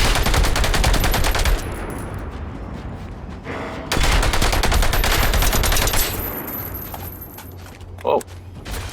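Rapid automatic gunfire shooting at machine bolts in the open-world game Generation Zero, two long loud bursts separated by a quieter mechanical rumble, with a sharp impact near the end.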